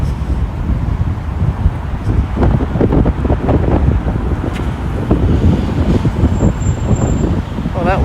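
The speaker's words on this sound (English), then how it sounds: "that wind is fierce" Strong gusty wind buffeting the microphone on Beecroft Road in Toronto, a loud, continuous low rumble with passing traffic noise underneath and no clear talk.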